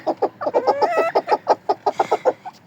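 Bantam Cochin chickens cluck loudly and close by in a quick run of short, rhythmic notes, with a few higher drawn-out calls mixed in and no talking.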